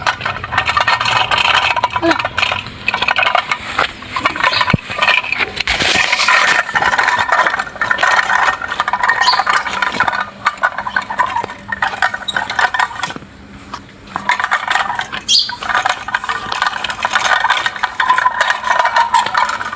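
A farm tractor loaded with dry fodder runs with a steady engine drone and constant loose metallic rattling, loud and close throughout with only brief dips.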